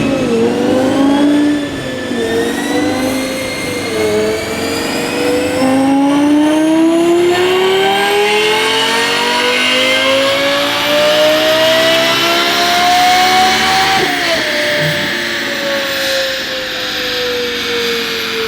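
A straight-piped Lexus LFA V10 screams under load on a dyno, its pitch climbing steadily through a long full-throttle pull before a sharp shift-like drop near the end, loud and raw with rich harmonic layers and no talking.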